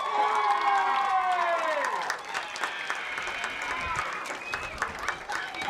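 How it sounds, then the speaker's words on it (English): A stadium crowd at a high school football game applauds and cheers for the homecoming court, a loud, dense wash of clapping with tonal sound running through it over the first seconds. "Let's have a big round of applause for this year's Homecoming Court and Homecoming Royalty."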